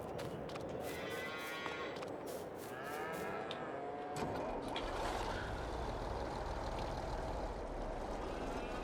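Cows in Farming Simulator 22 moo in drawn-out, wavering calls over a steady engine-like hum, with a few sharp clicks early on.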